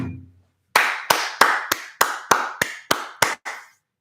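Nine to ten sharp, evenly spaced claps ring out alone after a brief low murmur, steady and fairly close, each tailing off quickly.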